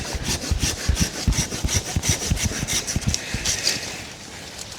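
Handsaw cutting through guava timber while pruning an agroforest, a steady run of close, loud rasping strokes in quick rhythm that ease off near the end.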